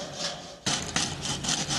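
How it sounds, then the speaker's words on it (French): A steel wire saw with spiral teeth cuts through wood for a stool, making raspy back-and-forth strokes that are close and steady and grow louder after a short, quieter start. "Cet outil qui ressemble à un fil de fer s'appelle la scie de fil d'acier."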